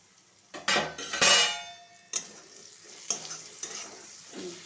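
Ghatkol leaves sizzle in a frying pan over a low gas flame while a utensil stirs and scrapes them, bringing bursts of crackling and a few metallic clinks from the pan, with no voices.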